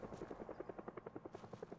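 Helicopter in the zombie survival game Project Zomboid, its rotor beating in a clear, fast, even pulse of chops at moderate volume, with no voices.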